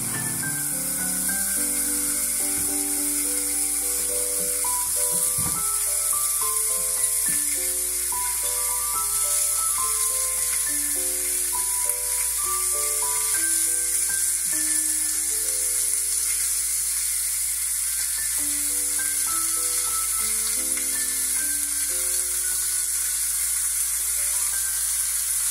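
Homemade hamburger patties frying in a pan give a steady, loud, hissing sizzle that continues without pause under light background music.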